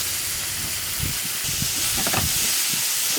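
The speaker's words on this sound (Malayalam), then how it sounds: "ചെമ്മീൻ ചേർത്ത് ഇളക്കുക." Prawns sizzle and hiss steadily in a hot pan as they are stirred, with a continuous frying hiss and intermittent scraping bursts from the spoon, close and fairly loud throughout.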